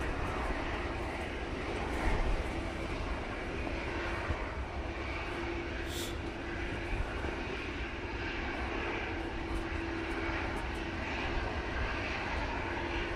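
Airliner engines roar steadily at Manchester Airport on a windy day, a continuous broadband rumble at moderate distance with gusty wind noise and no clear peaks.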